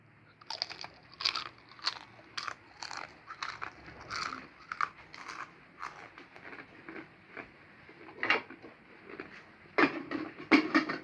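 Crisp, brittle crunching of someone biting and chewing tumpi, a fried mung bean rempeyek cracker, in a series of sharp close bites with brief pauses, alone without talk.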